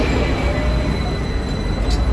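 A Hong Kong tram rolls away from Admiralty, giving a steady loud low rumble of wheels and rattling carriage with constant road and street noise and no clear voices.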